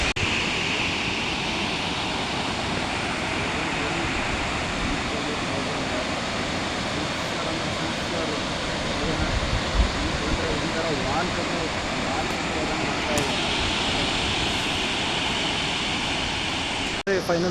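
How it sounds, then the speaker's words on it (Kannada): Unchalli Falls near Siddapur, Karnataka, makes a constant loud rushing roar of falling water, steady and unbroken, with a faint voice now and then. "ನೋಡಿ ಇದೆ ಉಂಚಳ್ಳಿ ಫಾಲ್ಸ್."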